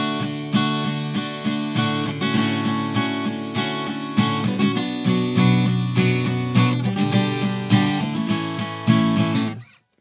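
Acoustic guitar strums the easy pre-chorus chords of a song in a steady, even pattern. It is close and full, sounds alone, and rings out before stopping at the end.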